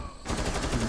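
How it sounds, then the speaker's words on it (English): A short burst of rapid automatic gunfire in a shooter video game, loud and close, starting abruptly after a brief quiet moment. "I'm shooting the hostage."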